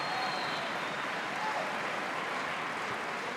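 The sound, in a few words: church congregation applause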